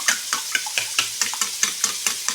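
Beaten eggs with salt whisked by hand in a bowl, a steady run of about ten quick, close scraping strokes at an even rhythm, with no voices.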